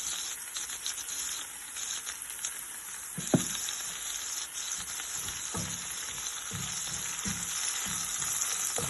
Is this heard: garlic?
yes